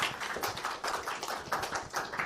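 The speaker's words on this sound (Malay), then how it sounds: "Tepukan yang gemuruh kepada MCCM ke-84" Audience applause at a motivational talk, a dense continuous patter of many hands clapping together at moderate distance, with rhythmic swells and no voices over it.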